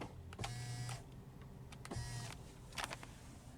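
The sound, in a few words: Tesla Model Y power tilt and telescopic steering wheel adjusting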